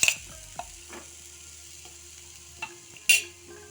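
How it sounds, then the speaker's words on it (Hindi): Chopped onion and green chilli fry in a pan with cumin, a soft steady sizzle broken by a few sharp spoon taps and stirring scrapes, close by with no talk. "प्याज को थोड़ी देर भून लेंगे।"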